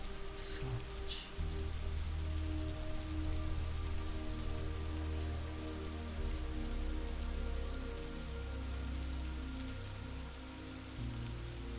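Steady rain falls continuously on a surface, a dense even patter with a low rumbling undertone, close and unbroken throughout with no voices.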